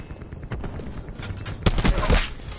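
Scythe minigun fire in Black Ops 4, a dense burst of rapid shots swelling loudly in the second half over steady game background noise.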